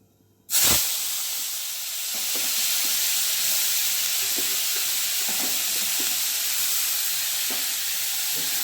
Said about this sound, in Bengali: চিংড়ি মাছটা ছেড়ে দিচ্ছি তেলে